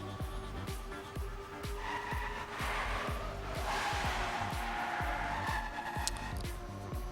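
Race cars in a competitive racing video game at a Gamers Assembly 2015 match drone steadily, their engine notes pulsing in a fast repeating rhythm of gear-like sweeps, with faint tire screeches over a continuous mid-level roar.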